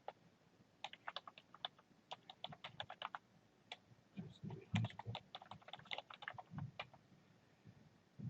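Quiet, fast typing on a computer keyboard while filling in a school form online, with bursts of light key clicks separated by short pauses and no speech.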